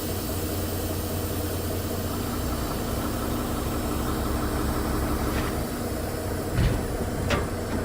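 A truck rolling slowly at about five miles an hour for a brake check, with a steady low engine drone and rumble throughout, a few faint creaks and knocks near the end, no one speaking.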